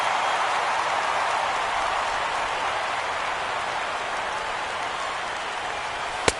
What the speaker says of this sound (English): Listen to this crowd. They're going crazy.